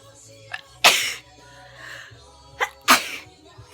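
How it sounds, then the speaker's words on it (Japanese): Two sharp sneezes burst out a couple of seconds apart, each a sudden loud blast, with a few quiet vocal sounds in between. "ハクションだよ、くしゃみは。"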